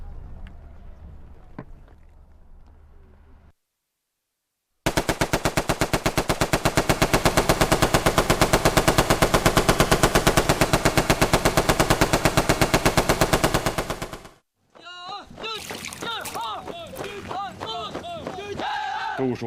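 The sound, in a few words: machine gun fire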